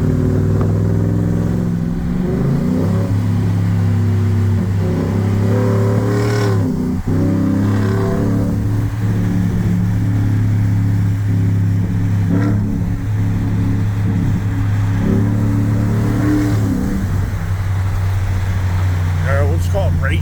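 A truck engine revs and roars continuously, heard from inside the cab, rising and falling in pitch, with a steady low rumble throughout and brief surges of acceleration.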